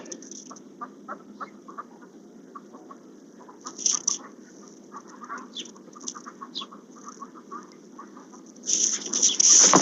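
A flock of farmyard ducks quacks at feeding time among chickens, with scattered clucks and quacks throughout and a louder burst of overlapping quacking near the end, close by in a quiet setting.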